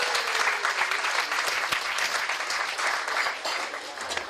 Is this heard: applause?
yes